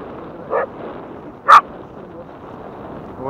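A playful dog outdoors in winter by the Volga, giving two short sharp barks about a second apart, the second louder and closer, against quiet background noise.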